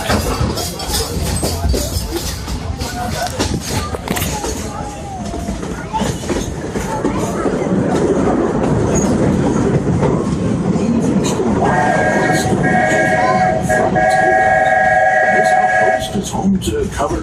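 The Disney Railroad train rolls along its loop track with constant rumbling, rhythmic clickety-clack of wheels and a sustained tonal whistle-like tone near the end, loud and close from aboard the train.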